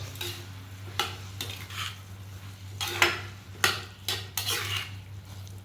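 Sautéing in a pan, with repeated metallic clinks and scrapes of a utensil against the cookware over a faint sizzle and a steady low hum, close by and fairly quiet.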